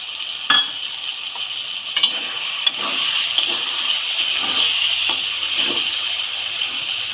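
Shelled peas mixed with tomato sizzle in a pan, a steady bright frying hiss punctuated by a few sharp spoon scrapes and clicks as the mixture is stirred.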